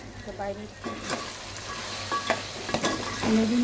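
Rice and peas for a khichuri fry lightly in a pan, a close sizzle broken by a few firm stirring scrapes and clinks of the spoon, with no one speaking.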